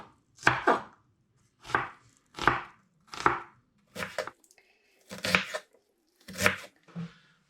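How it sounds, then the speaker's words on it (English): Knife chopping red, white and spring onions on a board, six or seven separate crisp cuts spaced about a second apart, close and clear with quiet between strokes. "I'm going to begin by chopping up and frying a red onion, a white onion and 3 spring onions"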